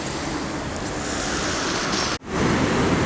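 Sea waves wash onto the beach at high tide near the mouth of the Carron River. A loud, steady surf roar is mixed with wind, briefly broken by a sharp dropout before the rush resumes.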